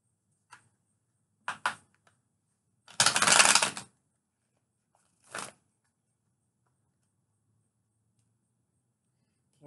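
Tarot cards are laid down on a table, producing a few separate soft slaps and one longer shuffling swish, close by with quiet pauses between them.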